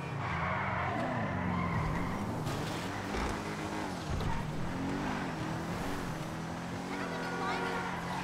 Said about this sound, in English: The engine sound, I love the engine sound.